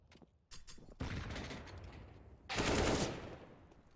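Gunfire in an esports shooter match, with a headshot landing as a flashbang goes off: sharp bursts start around the half-second mark, then a loud dense volley near the end, with no talk.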